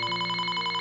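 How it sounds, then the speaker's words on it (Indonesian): A mobile phone rings with a steady, pulsing electronic tone, clear and unbroken for under a second with no talk over it. "Suara ponsel berbunyi menghentikan obrolan mereka."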